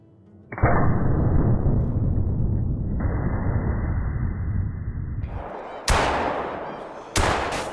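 A 20 gauge shotgun fires at geese during a goose hunt: a long, loud roar of sound, then two sharp, close blasts in quick succession.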